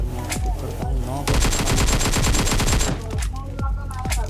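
Automatic gunfire in PUBG bursts close and loud in a rapid sustained stream, taking down an enemy, between shorter scattered shots and someone talking.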